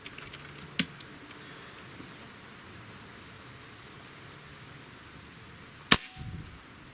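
Beeman Commodore 1365 air rifle firing with a suppressor fitted, giving a single short, fairly muted crack against a quiet background, preceded by a smaller faint click.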